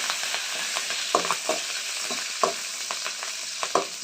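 Curry leaves hit hot oil for fried rice with a sizzle, and there are several sharp crackling pops over a steady frying hiss, close and alone with no voices.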